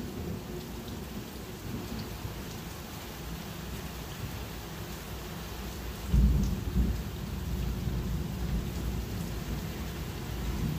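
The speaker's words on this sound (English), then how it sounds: "It's a heck of a storm." A night thunderstorm pours steady rain, and partway through a close thunderclap bursts loudly before settling into a continued rumble under the downpour.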